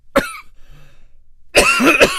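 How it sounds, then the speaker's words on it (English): A single sharp cough up close, then a quiet pause, followed by a longer burst of harsh coughing. "And I'm coughing probably because of it."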